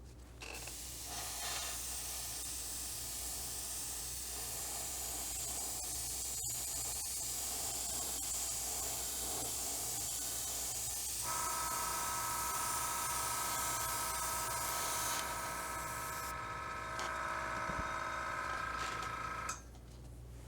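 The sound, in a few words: spraying a second coat of primer on a model sprue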